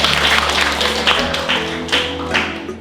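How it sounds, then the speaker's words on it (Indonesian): A classroom of students clapping together, a short burst of uneven claps and taps that swells and fades over a few seconds, with faint murmuring under it. "Tepuk tangan dulu."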